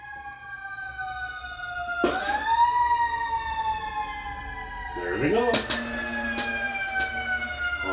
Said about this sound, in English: Uh-oh, sirens are flying.